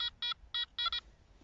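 Metal detector over sand picking up a rusty bottle cap, giving four short electronic beeps, the last one doubled, close and distinct with no voices.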